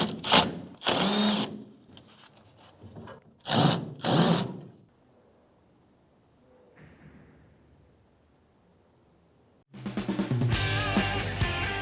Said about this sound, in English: Now I'm going to tighten the clamp on the hose with my 5/16 socket.